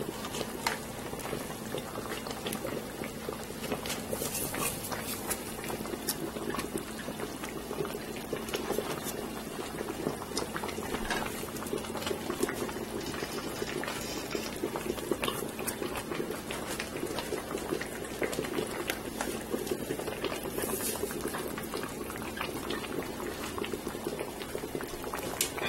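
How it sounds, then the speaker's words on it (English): Frozen chopped spinach boils in a pot for ogbolo soup, giving a continuous close bubbling and popping with an even, unbroken texture throughout. "Since this is frozen chopped spinach, I have to let it cook for about maybe 5 minutes."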